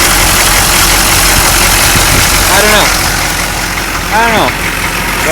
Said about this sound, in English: So I've been hearing this rattling, and I think I finally figured out where it's coming from.